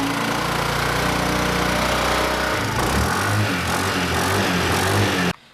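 A stock 2012 Yamaha Zuma scooter engine idles and revs steadily up close, a loud continuous droning hum with a pitch shift midway, cutting off abruptly near the end.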